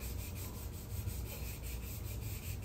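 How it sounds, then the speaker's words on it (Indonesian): Fine sandpaper rubs back and forth on the fork tube of a BMW G310GS during a fork seal change, a steady rhythmic scratching up close with no talk. "Kita pasir yang halus."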